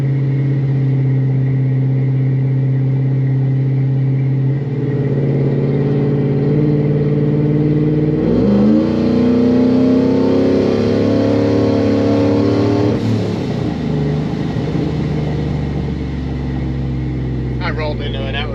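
A Procharged truck engine revs and accelerates on a street in fourth gear, a steady loud rumble that climbs sharply in pitch mid-run, then falls back as the driver rolls off.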